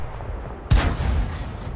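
A single loud tank cannon shot from a Type 64 in World of Tanks on the Highway map booms sharply, then a rumbling tail fades under steady battle ambience.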